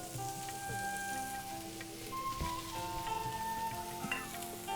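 Boiled potato frying in mustard oil in a pan, a soft steady sizzle close by with occasional stirring clinks, fairly quiet.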